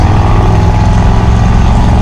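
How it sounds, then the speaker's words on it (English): A deep, steady exhaust rumble from a restored 1963 Chevrolet Impala's dual exhaust with glass pack mufflers, loud and close, with a throaty low drone and no talking. "You can hear that dual exhaust on it. It does have glass pack mufflers on it"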